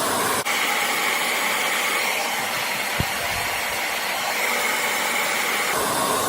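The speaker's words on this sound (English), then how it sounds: "I'm kind of rotating my blow dryer back and forth" A steady, loud hair dryer blows continuously with a broad airy whoosh, broken by a brief click; no talking.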